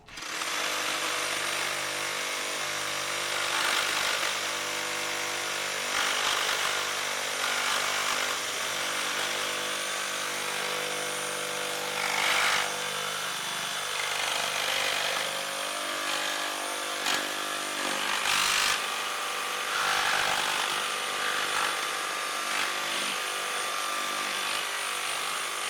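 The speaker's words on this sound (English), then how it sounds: "we're going to throw a bunch of framing nails right in this treated 4x6 piece of lumber, and we're going to cut through it" DeWalt Flexvolt reciprocating saw cutting through a treated 4x6 timber packed with framing nails, a loud, steady buzzing whine lasting the whole stretch with brief metallic bursts as the blade strikes nails, close and without talk.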